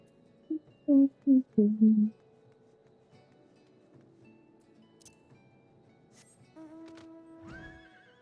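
A mount in Final Fantasy XIV gives a loud, close horse neigh in a few quick whinnying bursts, followed by quieter game sounds and tones.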